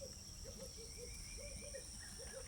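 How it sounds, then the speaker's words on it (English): Repeated soft cooing calls of a dove in an outdoor homestead setting, several short paired phrases spaced across the moment over a steady high insect or cricket drone. "Beautiful sounds of the dove going away."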